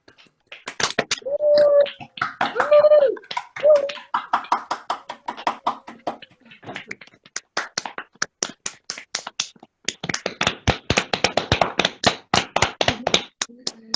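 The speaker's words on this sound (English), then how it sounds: "So I'd love you to unmute yourself so that we can hear everybody's round of applause." Participants on an online video call clap through their unmuted microphones, scattered and uneven hand claps from several people with brief tonal chirps early on, fairly close and dry.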